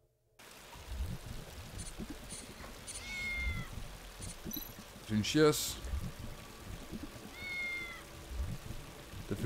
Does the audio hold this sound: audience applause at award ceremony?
no